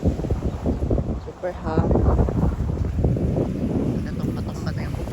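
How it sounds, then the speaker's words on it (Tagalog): Strong wind buffets a beach campsite, with steady rushing gusts and microphone rumble throughout, while a person speaks briefly over it. "Sobrang hangin."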